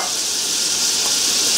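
Butter sizzling steadily in an overly hot pan, a bright continuous hiss that holds even and close throughout with no speech.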